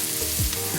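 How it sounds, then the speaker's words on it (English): Onions frying in a pot for chicken curry while being stirred, a steady close sizzle with a brief scrape of the spoon partway through. "Just keep on stirring it because you don't want it to burn."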